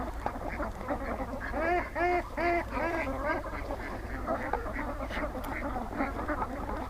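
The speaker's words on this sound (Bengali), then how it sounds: "অনেক বড় একটি হাঁসের খামার।" Many ducks on a large duck farm beside a pond quack in a dense, overlapping chorus, with repeated nasal calls close at hand and more birds behind them.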